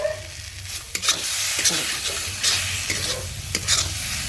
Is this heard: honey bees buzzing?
no